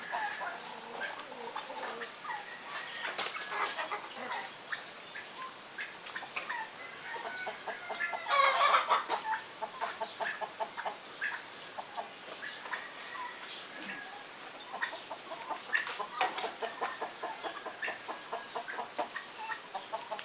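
Caged turkeys sick with coryza clucking and chattering in short bursts throughout, with one louder squawk partway through, against a faint background hum.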